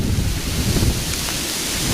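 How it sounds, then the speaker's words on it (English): Heavy driving rain and gusting wind from Superstorm Sandy roar steadily up close, a dense hiss with rumbling wind buffeting the microphone throughout. "We have a driving rain right now, and the wind is clearly picking up in tempo"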